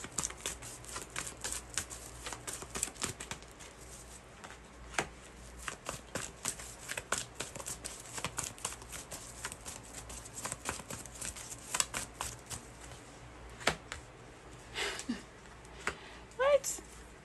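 Tarot deck shuffled by hand for a reading, a long run of soft riffling card flicks and snaps, fairly close and quiet, with faint voices talking in places.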